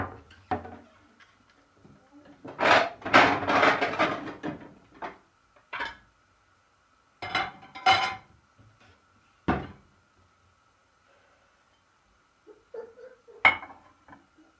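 Kitchen clatter: a cupboard door opens and shuts, a glass baking dish and other dishes clink and knock, with scattered sharp bumps and quiet pauses between.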